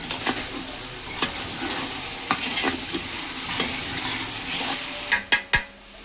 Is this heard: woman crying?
no